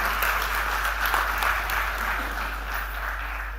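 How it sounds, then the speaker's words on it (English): Steady audience applause welcoming a woman to address a gathering celebrating Indian women in aviation, a dense, even wash of many hands clapping that holds at a constant level for several seconds. "Can we welcome her with a big round of applause, ladies and gentlemen?"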